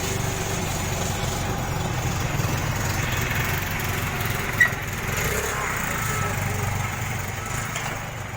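A Yamaha Xeon motorcycle engine idles steadily after a cylinder block replacement, a continuous close buzzing drone that runs throughout with little change.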